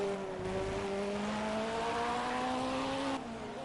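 A DTM race car at Silverstone drops through its gears under hard braking for Village corner, a loud, close engine whine stepping down in pitch, then steadying, with no voices.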